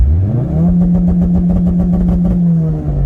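The turbocharged engine of a 2016 Ford Focus RS held at high revs for launch control, a loud, steady, buzzing drone close by that rises briefly and then holds a constant pitch for about three seconds.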